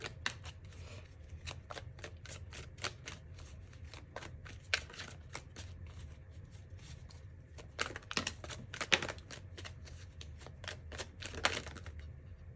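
Tarot cards being shuffled by hand, a dense run of crisp riffling and flicking card sounds with louder bursts near the end, close and alone with no talk.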